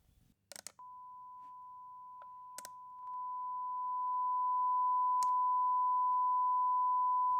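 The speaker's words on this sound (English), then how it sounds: "Generate a 1 kHz sine wave." A steady 1 kHz sine wave test tone from a signal generator, used in calibrating a FET rack compressor, runs continuously and grows slightly louder, with a few brief clicks scattered over it.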